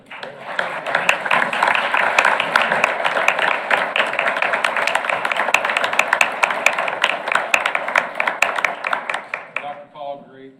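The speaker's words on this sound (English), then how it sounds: "So if you're a principal in here, we're going to clap for you" A school-board meeting audience claps steadily for school principals, dense sustained applause from many hands in a room, tapering off at the end as a voice begins to speak.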